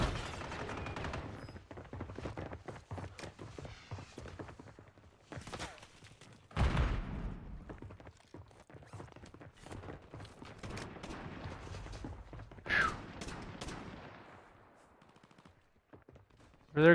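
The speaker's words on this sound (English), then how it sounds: "Keep shooting them, keep shooting them." Video game gunfire crackles in repeated rapid bursts and single shots, with a few louder booming blasts, all fairly faint and continuous, with no talk over it.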